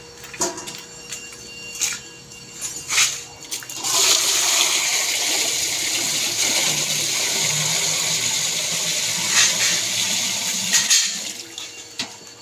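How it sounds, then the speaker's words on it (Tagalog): Water is poured into an ice cream mixer in a steady rushing stream that starts after a few seconds of light handling clicks and keeps going, loud and close, until the end. "Lagyan po muna natin ng tubig."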